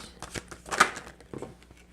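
Tarot cards being shuffled at a table during a reading, with a few quick papery riffles and flutters, one louder burst in the middle, close and fairly soft, no talk.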